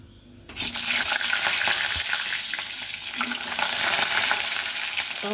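Potatoes hit hot mustard oil in a wok on a gas stove, seasoned with salt and turmeric; after a short quiet moment a loud, steady sizzle erupts and continues with occasional scrapes of stirring.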